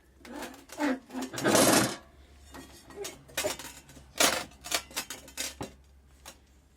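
A hand seeder mechanism turns, giving close clicking and rattling metallic clatter in uneven bursts with a few louder rushes, and a voice speaks briefly.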